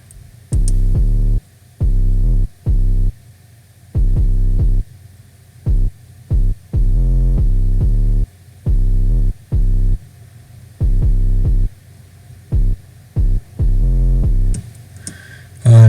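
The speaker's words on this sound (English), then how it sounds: "So here's the 808 pattern" A deep, buzzy sliding 808 bass in a UK drill beat plays a choppy rhythmic pattern of short and sustained notes, gritty with distortion, repeating loudly with gaps between hits.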